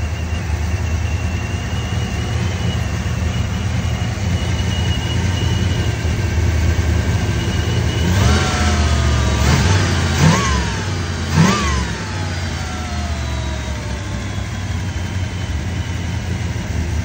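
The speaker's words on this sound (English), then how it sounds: "It's starting to sound better with that HEI in there." Car engine with an HEI ignition idling steadily and loudly close by, then blipped in three quick revs that rise and fall before settling back to idle.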